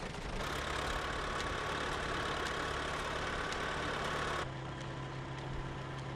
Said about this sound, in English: new Fordson is driving the thresher and the baler